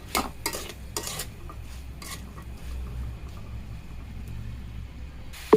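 Carrot and capsicum stirred in a pan for noodles, with meat already in it: soft intermittent scrapes and taps of a spoon against the pan over a faint low sizzle, fairly quiet and close.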